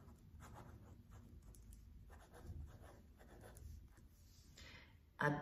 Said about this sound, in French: sur la feuille, vous allez écrire